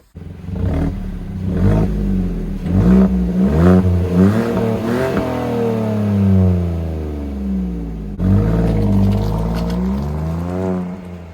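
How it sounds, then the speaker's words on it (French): A Fiat 500 with a 1-litre, 70-horsepower engine revs up repeatedly, climbing in pitch through gear changes, then settles to a smooth purr before revving again; loud and close. "C'est quoi cette sonorité sportive sur une petite voiture 1 litre 70 chevaux? Ça ronronne"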